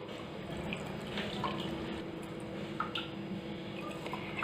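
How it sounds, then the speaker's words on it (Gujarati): Water pours into a jar of fresh green turmeric and lemon pickle, a steady close trickle with small drips and splashes and no talking. "હવે આપણે તેની અંદર પાણી ઉમેરીશું।"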